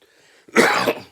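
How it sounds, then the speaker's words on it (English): One short, rough throat clearing, close and fairly loud, after a brief quiet moment. "I got to clear my throat"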